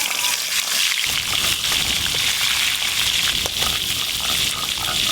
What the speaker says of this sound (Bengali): বাকি এই সব মাছগুলো একসঙ্গে ভেজে নেব।